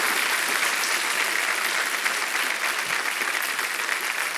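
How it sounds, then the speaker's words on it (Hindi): A studio audience at a television quiz show claps loudly and continuously, a thick, even wash of applause filling the room with no break. "तालियां बजती रहें इनके लिए।"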